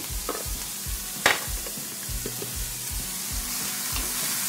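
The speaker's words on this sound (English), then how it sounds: "as the onion is frying, it begins to sweat down" Onions fry in a pan with a constant sizzle, punctuated by repeated low scraping strokes of stirring and an occasional clink, close by.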